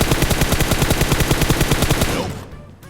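Rapid automatic gunfire in PUBG Mobile, a steady loud burst of evenly spaced shots for about two seconds, then cutting off and fading into a quiet echo.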